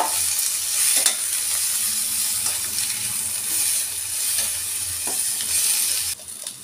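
Potato and sweet potato fry in a pan over a low flame, a steady, even sizzle with occasional stirring scrapes and light clinks, close up with no talk.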